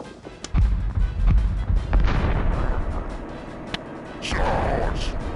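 Artillery fire in the fantasy battle game Dark Omen: several booming cannon blasts and rumbling impacts in quick succession amid battlefield noise, with shouted voices calling out over the din.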